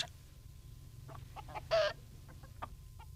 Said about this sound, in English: George Lancaster showed Pat his special prize hens.